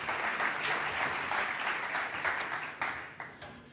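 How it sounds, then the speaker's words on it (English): A conference audience applauds as two speakers from Stripe and Fiverr are welcomed onto the stage, a dense, sustained round of clapping that begins thinning toward the end, with a few louder individual claps. "Please, a huge round of applause"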